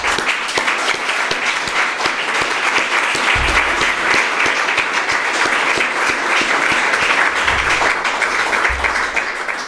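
Loud, sustained applause from a large crowd at an election night event for a Hessian state election, continuous dense clapping throughout with no speech over it.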